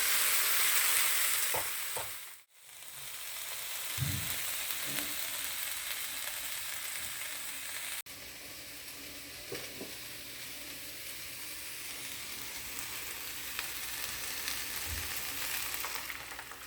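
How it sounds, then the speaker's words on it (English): Chopped onion and tomatoes frying in a pan for South Indian tomato chutney, a steady close sizzle throughout with a brief dip and occasional stirring scrapes. "Let's add chopped onion and tomatoes."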